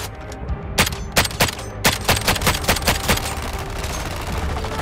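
Rapid gunfire aimed at Green Lantern in Suicide Squad: Killing the Justice League, a quick series of sharp, loud shots in an uneven rhythm, mostly alone over a low background hum.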